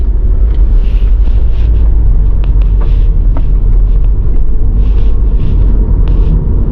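A car drives along the B5 road between Christiana town in Manchester and Trelawny Parish, Jamaica, giving a loud continuous rumble with wind buffeting the microphone and no voices.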